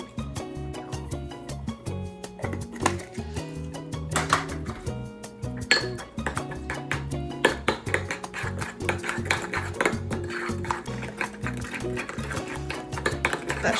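Salad dressing seasoned with garlic powder is stirred in a bowl, a steady run of close clinks and taps of a utensil against the dish continuing throughout with no talking.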